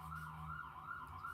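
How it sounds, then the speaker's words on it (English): An emergency vehicle siren wails in a downtown street, its pitch rising and falling in slow sweeps, faint and distant beneath a low background hum. "Sorry for the sirens. We are in a downtown area,"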